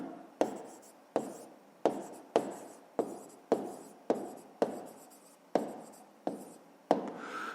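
Pen writing out a fifth-grade math exercise answer on paper, a steady series of about ten close scratchy strokes, each starting with a sharp onset and trailing off, with no talking.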